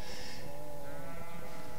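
Lambs and sheep bleat loudly and close by at a Turkish shepherd's flock, with overlapping wavering cries and no talk.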